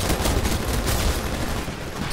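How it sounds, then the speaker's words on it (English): Rapid gunfire rattles nonstop in Titanfall as the player is fired on, a loud, dense burst of overlapping shots with a heavy low thump, continuous for the whole moment. "I'm getting shot at still"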